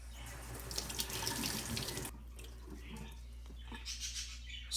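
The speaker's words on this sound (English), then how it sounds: "let me run this underwater one more time" Water from a tap runs over a coin, a splashing gush that cuts off partway, followed by quieter trickling and drips at close range.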